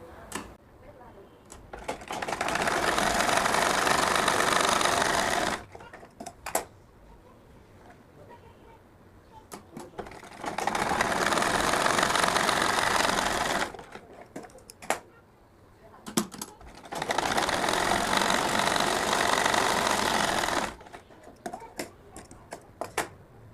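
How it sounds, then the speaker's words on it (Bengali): A sewing machine stitches a pocket onto cloth for a fatua shirt in three long, even bursts of rapid stitching with pauses between them, and a voice speaks during the gaps. "এই প্লেটের কাপড়টা এখানে বসিয়ে সেলাই করে দিব ভিতর সাইড থেকে"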